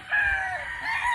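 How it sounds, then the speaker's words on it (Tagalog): A fighting rooster at a game farm gives a single loud, close crow that rises and holds for about a second. "Mga pansabong daw yung tandang."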